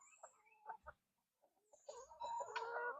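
Chickens cluck in short bursts, with a louder, denser stretch of clucking and squawking near the end.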